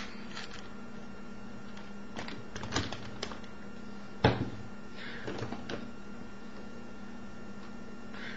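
A clicky 4x4 Rubik's-style cube puzzle gives off sparse, quiet plastic clicks and rattles as its layers are turned, with one sharper snap midway against a low steady background hum.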